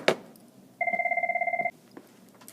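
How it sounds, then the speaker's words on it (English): A mobile phone rings once: a short electronic trill of rapid pulsing beeps lasting under a second, fairly clear and close, in a quiet room with no talk. "Oh, my phone's ringing."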